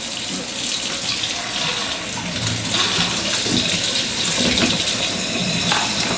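Water runs steadily from a tap, a continuous splashing pour close by with no voices, adding water to an energy ball mixture.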